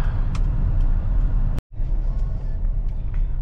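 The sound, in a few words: car driving in heavy road traffic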